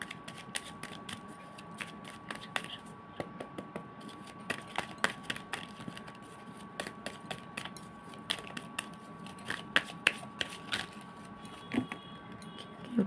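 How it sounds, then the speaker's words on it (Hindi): Tarot cards shuffled by hand, a quiet run of light, irregular clicks and flicks over a faint steady hum. "जब तक मैं शफलिंग कर रही हूँ"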